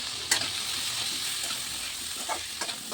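Potatoes fried with cumin, turmeric and chili powder sizzle steadily in a pan, broken by a few sharp scrapes of a spoon stirring them.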